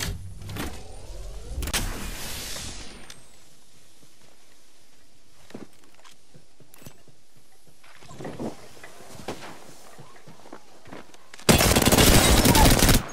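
Enemy gunfire in a shooter video game comes in sharp bursts early on and again near the end, with a loud dense volley closing the stretch, scattered with quieter clicks and movement between.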